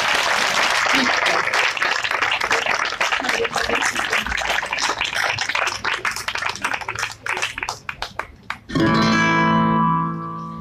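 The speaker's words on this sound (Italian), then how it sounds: "Applauso." Audience applause, a loud dense clapping wash that thins to scattered claps and then gives way to a sustained musical note near the end.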